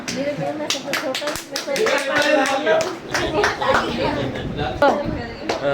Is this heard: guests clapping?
yes